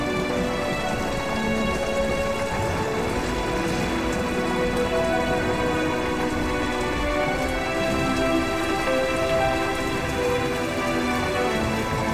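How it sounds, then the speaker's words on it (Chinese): Steady rain pours down, a dense, even patter of drops on surfaces that continues without a break. "下雨了"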